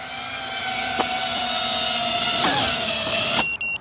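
A Nexa3.5 sub-250 g drone with DJI O4 Pro hovers close overhead while landing, its propellers giving a loud, steady high-pitched whine that shifts slightly in pitch before abruptly cutting off.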